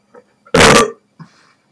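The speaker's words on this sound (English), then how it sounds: "Burp." One loud, rough burp erupts close to the mic, a short throaty burst lasting about a third of a second, framed by faint small mouth sounds before and after.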